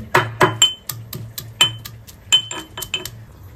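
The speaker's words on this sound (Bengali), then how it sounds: "রসুন থেতো করে নিচ্ছি" Garlic is crushed for a prawn and Malabar spinach dish, giving about a dozen sharp, close knocks in an uneven, quick rhythm, each with a brief ringing clink.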